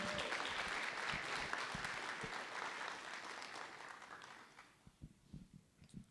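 Applause at a school board meeting for a high school FFA group, fairly quiet clapping from a modest crowd that fades out into a few scattered claps.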